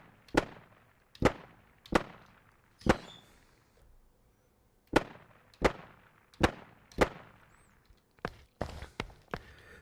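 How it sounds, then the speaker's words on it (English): Rifle shots ring out in an Unreal Engine game demo with Wwise reflections, about a dozen sharp single cracks with short echoing tails, spaced irregularly and then coming faster near the end, each one loud and alone. "And now you can hear the other rifle."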